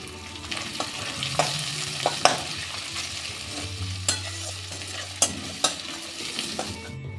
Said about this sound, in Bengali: এই পেঁয়াজটাও আমি ভেজে নেবো